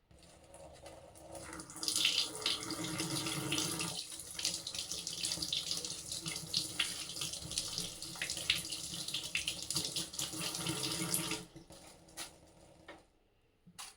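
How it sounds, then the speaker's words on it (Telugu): A tap runs steadily into a sink, a thin continuous splashing stream that stops abruptly near the end, leaving near silence. "ఈ మధ్యలో ట్యాప్ వాటర్ కూడా చాలా సన్నగా పెట్టుకోవాలి"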